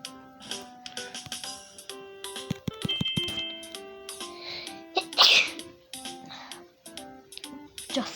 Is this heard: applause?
no